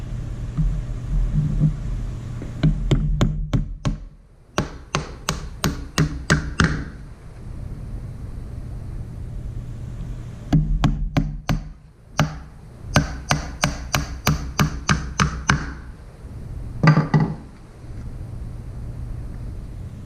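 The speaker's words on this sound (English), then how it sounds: "Hammer in the last edge." Bursts of sharp, rapid hammer blows on wood, several quick strikes per burst, separated by short pauses, close by over a low background rumble.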